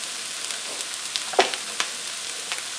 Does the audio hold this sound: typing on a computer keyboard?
no